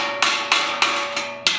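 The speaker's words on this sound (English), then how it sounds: "placing it onto the stake, and I'm coming in with a ball of a ball peen hammer here" A ball peen hammer strikes bronze sheet on a chisel stake while a Greek breastplate is being made. Five evenly spaced, sharp metallic blows ring close and loud, with a lingering tonal hum between them.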